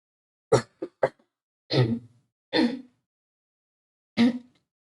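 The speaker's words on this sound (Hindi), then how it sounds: "फिर से प्रॉब्लम हो रही है खांसी की वजह से" Several short coughs, a quick burst of three followed by a few spaced-out single coughs, close to the microphone with silence between.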